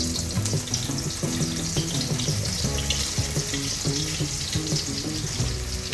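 Raw banana slices dropped into hot oil for homemade chips, a dense, even, loud sizzle with rapid bubbling that continues unbroken, no talk.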